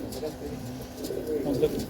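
Pigeons coo softly in low, rolling murmurs at a loft, with overlapping calls rising slightly toward the end amid a faint background hum.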